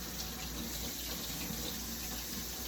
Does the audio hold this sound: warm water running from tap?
yes